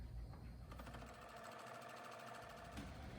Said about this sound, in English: we're going to sew up each side here